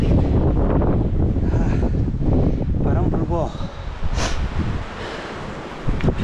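Heavy wind buffets the microphone on a rainy mountain ridge of Gubongsan in Jinan, loud and continuous, with someone talking over the roar.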